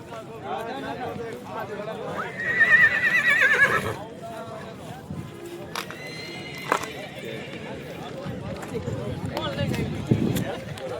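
Kathiyawadi horses at a horse purchase event in Amreli give a loud whinny partway through, set among crowd noise, people talking and faint hoof clopping.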